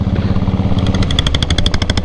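A diesel Royal Enfield Bullet motorcycle, a 1984 machine rated at seven and a half horsepower, runs close by with a rapid, loud thumping exhaust beat that sharpens into crisp repeated pops midway, alone without voices.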